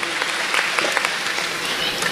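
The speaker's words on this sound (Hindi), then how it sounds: "एक बार और उनके परिवार को ताली बजा के बधाइयां" Audience clapping in congratulation at a Manav Dharam spiritual gathering, a dense steady burst of many hands throughout, fairly close and loud, with a faint voice mixed in.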